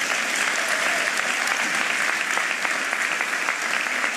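Dense, steady applause fills the room at a Philadelphia mayoral event marking Mayor Cherelle Parker's 100 days in office, a continuous wash of many hands clapping at full volume without a break.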